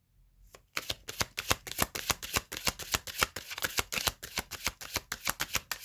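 Tarot cards shuffled by hand after a brief quiet start: a rapid, steady run of crisp riffling flicks, close and clear, with no talking.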